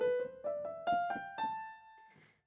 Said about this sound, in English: the minor scale sounds like this